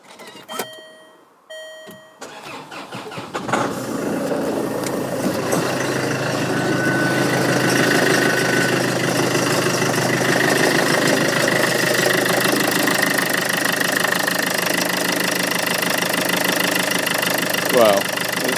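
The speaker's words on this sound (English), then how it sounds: "Start this up and just see if it" A Land Rover Freelander 2 fitted with a performance air filter starts after a few starter clicks and whirs, then idles steadily and loud close by for the rest of the clip, with a brief voice near the start.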